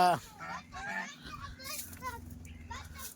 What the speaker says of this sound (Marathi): बदक रे